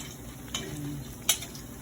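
Akara bean fritters frying in hot oil give a steady, close sizzle, broken by two sharp metallic taps of a utensil as the fritters are turned over, with no one talking.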